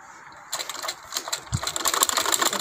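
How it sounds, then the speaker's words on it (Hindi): A sewing machine stitches a strip of fabric for a child's kameez in a close, rapid mechanical whir that starts after a moment and runs with uneven pulses. "पट्टी को भी इसी तरह से सिलाई लगाऊंगी।"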